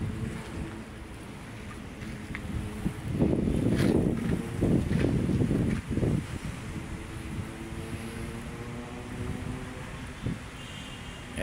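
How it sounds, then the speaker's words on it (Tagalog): Strong wind blows across the microphone by Manila Bay under an overcast sky, a steady roar with heavier gusts in the middle, and water lapping faintly underneath. "malakas pa yung hangin"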